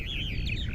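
Purple martins on Eastern Long Island give a quick run of gurgling, warbling chirps, loud and close, rising and falling in pitch over a low outdoor rumble.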